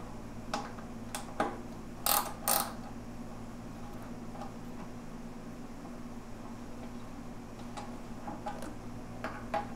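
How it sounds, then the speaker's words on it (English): Allen bolts being loosened on a Honda Shadow VT750/VT1100 motorcycle, heard as scattered light metallic ticks and clicks from a hex key, with two brief louder clanks, over a steady low hum. "Remove these two Allen bolts."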